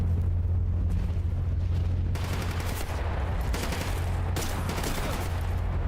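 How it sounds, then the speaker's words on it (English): A grenade explosion in the video game GAMMA lands amid continuous loud rumbling combat noise, with sharp blasts and bursts of gunfire-like cracks over a heavy low drone. "That's another grenade coming in."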